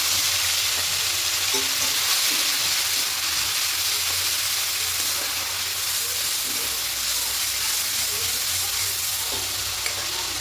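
Tomato paste frying in a pan of hot oil with whole garam masala, cumin and asafoetida, a steady close sizzle and hiss running unbroken and alone.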